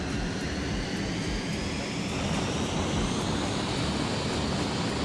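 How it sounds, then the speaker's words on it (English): A jet aircraft roars through an afterburner takeoff, a loud, continuous broadband rush of engine noise that holds steady and dense throughout with no voices. "Might even do an afterburner takeoff"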